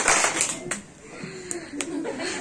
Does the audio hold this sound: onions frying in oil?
no